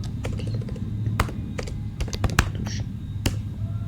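Rapid, close clicking on a computer keyboard while code is typed, uneven bursts of keystrokes with a few sharper taps, over a low steady background hum.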